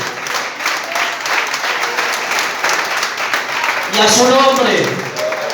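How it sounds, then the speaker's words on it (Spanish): A church congregation breaks into loud, sustained applause that fills the room, with a speaker's voice carrying over the clapping throughout and briefly rising near the end. "Dale un fuerte aplauso al que vive."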